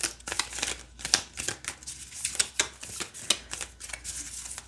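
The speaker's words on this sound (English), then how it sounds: "Let's go ahead and see if we can shuffle these" Oracle cards from a crystal grid deck being shuffled by hand, a run of quick riffling, flicking card sounds in irregular bursts, close and fairly quiet, with no talking.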